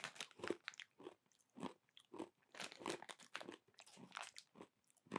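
Close, crisp crunching of Madras-flavour pork scratchings being chewed, a series of sharp, irregular bites and crackles with short quiet gaps between them.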